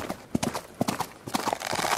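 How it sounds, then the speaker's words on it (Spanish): Rapid hoofbeats of a galloping horse, loud and close, falling in an uneven rolling rhythm for a couple of seconds. "dos sonidos de un caballo cabalgando"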